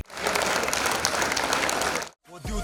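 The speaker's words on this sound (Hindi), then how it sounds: "जोरदार तालियों के बीच जस्सी" Loud, dense audience applause at a televised talent show grand finale cheers a performer, roaring evenly for about two seconds before cutting off abruptly, followed by a brief snatch of other sound.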